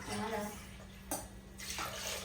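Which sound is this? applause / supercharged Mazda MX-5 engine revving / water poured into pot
water poured into pot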